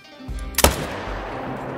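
A single sharp rifle shot fired at a deer in a hunting video game, loud and close, ringing out once over a steady low background drone.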